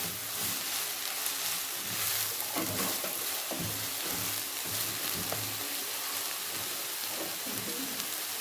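Broccoli frying in a pan for a vegan calzone filling, giving a dense, continuous crackling sizzle that stays loud and even, with faint stirring and no talk.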